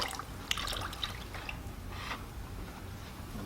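Liquid is poured out of a pottery wheel tray, a close, fairly quiet splashing trickle with a few brief drips and sloshes over a few seconds, no talk.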